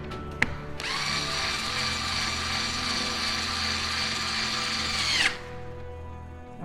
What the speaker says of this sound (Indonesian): langsung kita kencangkan dengan screwdriver